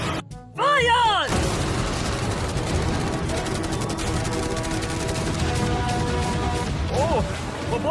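Machine guns and cannons fire on a yacht, a dense, loud, continuous barrage of blasts and crashes running almost the whole stretch after a brief opening burst, with voices shouting over it.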